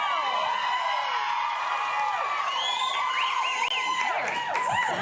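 A studio audience at a live morning talk show cheers, whoops and shouts continuously, a dense loud crowd roar with high excited yells rising toward the end.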